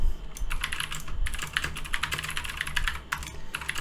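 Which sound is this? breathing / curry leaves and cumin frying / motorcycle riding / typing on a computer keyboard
typing on a computer keyboard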